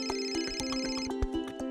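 A mobile phone rings in an office, its bright electronic ringtone pulsing in a steady repeating pattern, loud and close, with no talking over it.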